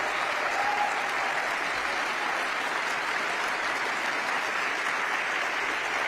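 Audience clapping fills the space steadily and evenly throughout, a dense wash of many hands at moderate distance with no break.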